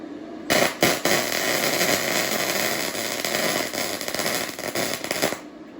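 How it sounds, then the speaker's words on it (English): Close welding, likely arc welding, crackles steadily and loudly for about five seconds after a few sharp starting pops, then cuts off. "we're going to try hold this and do some welding for you guys"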